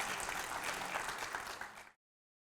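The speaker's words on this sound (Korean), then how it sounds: "오늘의 저자 박병모 대표께 다시 한번 큰 박수 부탁드립니다" An audience at a book launch event for author Park Byung-mo applauds in a steady, dense burst of clapping that cuts off abruptly after about two seconds.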